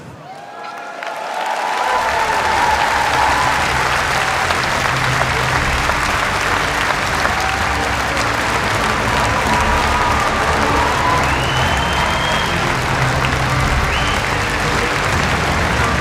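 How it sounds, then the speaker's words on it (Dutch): Dense, sustained applause from a large crowd in the ring at an honours ceremony, steady and loud throughout after a brief quieter start, with faint cheering mixed in. "De applaus, laat het nog eens opzwetten mensen, laat het nog eens horen."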